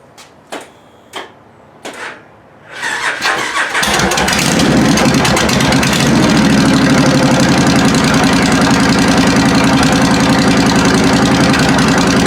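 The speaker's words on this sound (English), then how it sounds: "Let's see if the bike starts." A John Deere D105 lawn tractor engine makes a few separate cranking clicks, then catches and starts and settles into a loud, steady idle that runs close by, with no talking.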